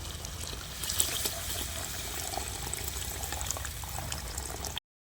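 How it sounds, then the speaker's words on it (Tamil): Tamarind water being added to a simmering stingray fish curry in a pot, a steady close liquid wash and bubbling that runs for several seconds and then cuts off abruptly. "இப்போ புளியை சேர்த்துக்கலாம்"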